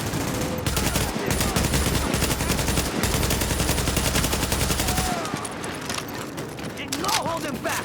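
Rapid automatic gunfire from The Division video game rattles loudly and continuously for about five seconds, then drops to quieter battle ambience with scattered shots.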